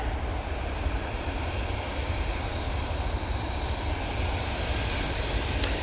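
A Virgin Atlantic Airbus A330-300 jet arrives at Manchester Airport from Atlanta, its engines a continuous, broad roar that stays loud and steady throughout, with no voices.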